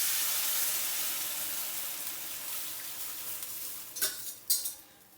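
Gram flour batter hits hot oil in a pan and gets stirred, giving a steady close hiss of frying with a few sharp scraping stir sounds near the end.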